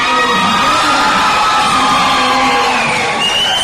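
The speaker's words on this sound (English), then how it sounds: "And the crowd goes crazy." A packed arena crowd at an amateur MMA fight roars and cheers continuously, with whoops, yells and shouting blended into a dense, loud wall of noise throughout.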